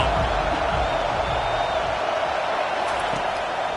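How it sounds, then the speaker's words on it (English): A college football stadium crowd roars behind the defense on third down in a UCLA versus Oklahoma game, a dense, sustained wall of cheering that fills the whole stretch without a break. "Decibels rising as the crowd gets behind this defense on 3rd down."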